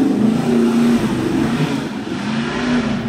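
Car engine revving steadily in the background beside the Los Angeles River, a continuous mid-pitched drone with slight swells in intensity, fairly loud and without speech.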